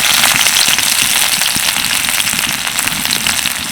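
Chopped onion frying in a pan for an oil-free vegetable tiffin, with a loud, steady, dense crackling sizzle that holds close and continuous throughout with no talk.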